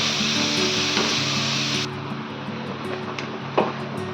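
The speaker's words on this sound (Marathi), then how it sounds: "तूप ऍड करून त्याच्यात बीटचा किस टाकून ते व्यवस्थित जरा असं हलकं हलकं परतून घ्यायचं" Grated beetroot sautéing in ghee for halwa, a dense sizzle that stops abruptly partway, followed by quieter scraping and stirring in the pan with an occasional clink.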